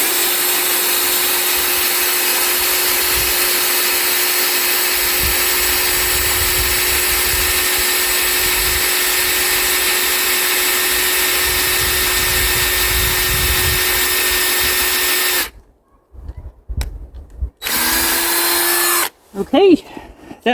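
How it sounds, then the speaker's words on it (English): A cordless drill with a freshly charged battery bores a tap hole into a maple tree, running as a loud, steady whine for about fifteen seconds before stopping, followed by brief handling noises. "It's amazing the difference a full battery on your drill can make."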